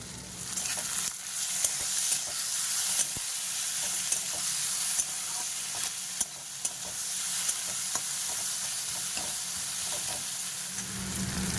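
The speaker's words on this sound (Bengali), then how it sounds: "পেঁয়াজটা হালকা ভাজা হয়ে যাচ্ছে টমেটোটা দিয়ে দেবো" Onion, green chili and tomato fry in a pan for a Bengali aloo posto dish, giving a steady close sizzle with soft stirring scrapes throughout and no voices.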